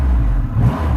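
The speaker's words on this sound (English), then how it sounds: "As you rev it, the whole bike moves because the engine is so big." A 2020 Triumph Rocket 3 GT motorcycle with its very large engine revving hard, a loud, deep, steady low rumble that swells briefly mid-way, heard up close with no talking.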